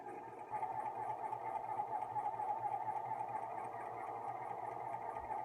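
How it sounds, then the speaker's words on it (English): Sewing machine stitching down the center of a fold on a clean finish seam at 2.5 stitch length, a steady continuous mechanical whir running evenly and fairly close throughout, with no talk. "I am stitching in the center of that fold."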